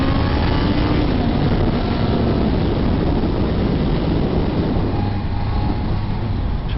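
A 2018 Honda CBR650F motorcycle engine drones loud and close while downshifting through the gears, a dense continuous roar with wind rush and slight pitch shifts, no break in the sound.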